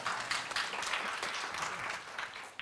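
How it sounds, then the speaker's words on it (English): Conference audience applauding at a national event, a short burst of dense, steady clapping that holds for a couple of seconds and then starts to thin out. "I think you can all have a round of applause for that one."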